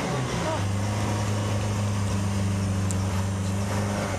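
A Daihatsu Zebra 1.3 car engine with a dirty carburetor runs loud and close, held at steady revs while the carburetor is choked by hand, a continuous droning hum.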